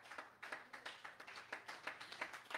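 Rhythmic group clapping at a prayer meeting, with distinct sharp claps falling in a steady, slightly uneven beat, fairly close and alone without talk.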